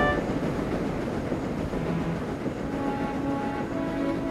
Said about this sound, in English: He was pulling a train of heavy coal trucks.